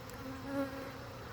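A honey bee swarm hums faintly and steadily, a soft continuous buzz with a couple of brief higher whines drifting by, no voices.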